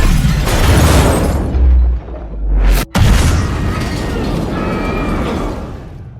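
Bomb going off as an explosion sound effect, a loud, deep rumbling blast that swells, breaks off sharply, then rolls on as a long roaring decay.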